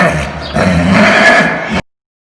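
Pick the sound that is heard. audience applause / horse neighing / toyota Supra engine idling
horse neighing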